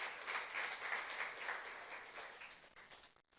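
Congregation applause during a youth worship service at a Korean church: a faint, even wash of many people clapping that fades toward the end.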